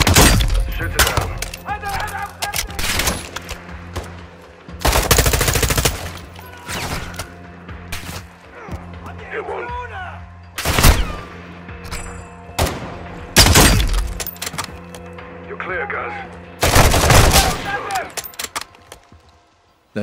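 Sharp, loud gunshots crack out in separate bursts during a Call of Duty sniping mission, spaced several seconds apart and alone between shots, with voices talking in the quieter gaps.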